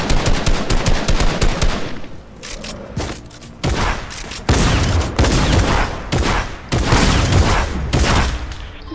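Loud, relentless automatic gunfire rattles in Fortnite, with dense overlapping shots in long sustained bursts separated by a few short pauses and a dull boom or two.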